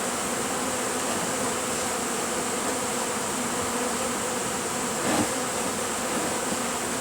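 A honeybee swarm lodged in a family room ceiling gives a steady, dense buzzing drone that holds throughout, with one brief swell near the end and no voices.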